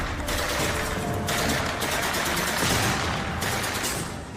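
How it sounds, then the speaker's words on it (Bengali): Several loud bursts of rapid machine-gun fire from Pakistani soldiers crack out in quick succession at night, echoing over a freezing mountain battlefield with a dense broadband roar between volleys. "শুরু করে ফায়ারিং।"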